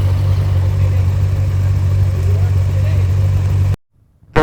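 Motorcycles of mixed engine sizes drone together at the start of a group ride, a steady close low engine hum that cuts off abruptly near the end.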